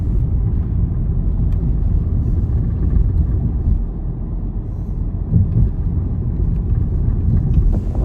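A car drives along an Australian outback road toward Wentworth, giving a steady loud low rumble of engine and tyre noise that barely changes throughout.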